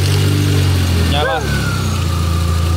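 A Toyota Innova with the 1GD diesel engine runs at a steady idle, the low rumble loud and continuous throughout, with a short chirp partway through.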